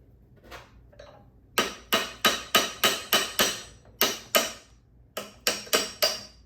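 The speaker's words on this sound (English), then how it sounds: "you use a brass drift" A hammer strikes a brass drift to separate parts of a 1974 Porsche 911 crankshaft. About a dozen sharp, ringing metallic blows fall in quick groups, close and loud, with short pauses between the bursts.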